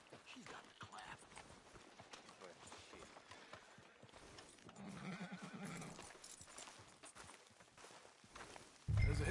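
A horse whinnies and its hooves clip-clop on the ground in the open-world western game Red Dead Redemption 2, heard quietly at moderate distance before a sudden loud thump at the end.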